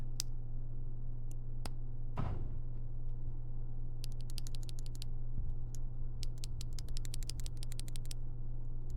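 A BOYI IK87 75% mechanical keyboard with Gateron Yellow switches is typed on, with scattered clacks and then quick bursts of keystrokes over a faint steady hum.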